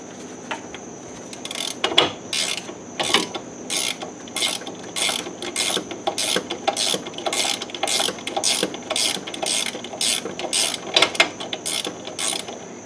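Ratchet wrench snugging a sway bar end link nut on a 2006 Honda Ridgeline, a steady run of about twenty close, crisp ratcheting clicks in a quick even rhythm, with no talking.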